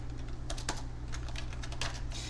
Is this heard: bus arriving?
no